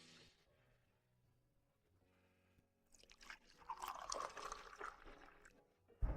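Water is poured into a glass, a soft burbling and splashing trickle rising midway through an otherwise quiet stretch, faint and close, ending with a brief low thump.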